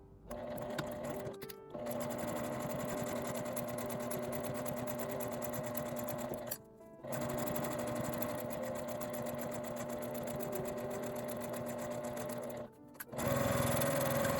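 A sewing machine stitches a curved seam on a zipper pouch in three steady close bursts of rapid whirring, each cut by a short pause, with no voices.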